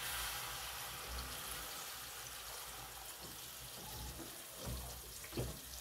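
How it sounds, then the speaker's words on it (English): Water poured into a pot of simmering chickpeas, a soft trickling wash over a steady low kitchen hum, with a couple of small splashy bursts near the end. "I just want to add in a bit of water"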